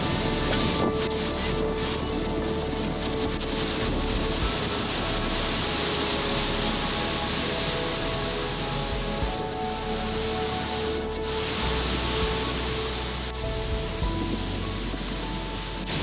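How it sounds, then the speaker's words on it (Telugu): A small waterfall at Thoseghar pours down in a constant broadband rush of falling water, steady and fairly loud throughout with no voices. "అక్కడ కింద చిన్న వాటర్ ఫాల్ పడుతుంది."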